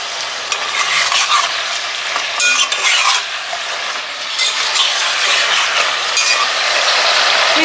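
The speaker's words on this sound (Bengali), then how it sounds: "একটু নাড়াচাড়া করে নিয়েছি।" Chicken fried with ginger garlic paste being stirred in a pan, a steady close sizzle broken by repeated scraping and clinking of a spoon against the metal, with no voices.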